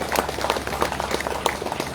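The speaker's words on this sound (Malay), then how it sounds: "Berikan tepukan kepada mereka." Applause from an audience at a Malaysian ecotourism and recreation area opening ceremony, a short burst of scattered hand claps of moderate loudness with a faint murmur of crowd behind.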